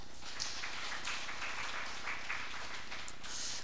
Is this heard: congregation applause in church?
yes